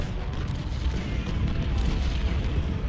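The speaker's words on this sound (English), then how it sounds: "While the cannons just blast away at the enemy units." Cannons boom in the Civil War strategy game Ultimate General Civil War, a dense low rumble of overlapping artillery blasts rolling on steadily without a break.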